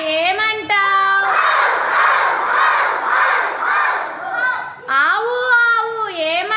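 Many children shout in unison, imitating a dog barking in a loud, sustained group chorus during a classroom sounds activity, with an adult speaking before and after.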